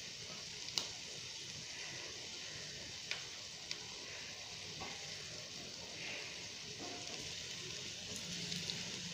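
Stuffed okra (bhindi) fries over a low flame, a faint, steady sizzle carrying soft occasional ticks and pops throughout, with no talking.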